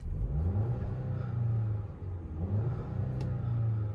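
Engine noise of a 2022 Audi Q7 SUV heard from inside the cabin in dynamic mode: a muffled low rumble that swells in a couple of revs, steady and close, with no talking.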